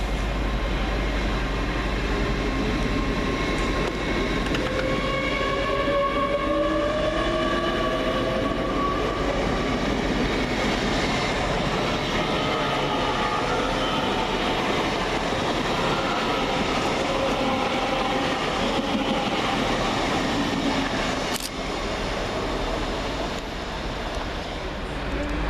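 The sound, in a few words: Great Western Railway train 802114 departing Reading station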